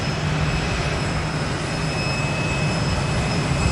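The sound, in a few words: Spirit Airlines Airbus A320 arriving from Las Vegas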